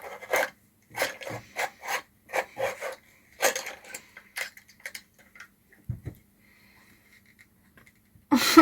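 A handheld sharpener grinding something in short scraping bursts, about a dozen quick rasping strokes close up, then a pause with faint rustling and a sharp knock at the end.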